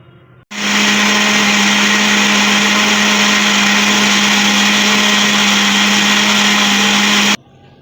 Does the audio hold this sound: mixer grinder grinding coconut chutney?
yes